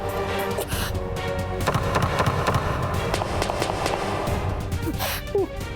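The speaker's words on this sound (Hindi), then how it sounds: "ये तो मेरी ही जूती की आवाज लगती है।" Footsteps of juttis clack in a steady walking rhythm, close and fairly loud, against a noisy background.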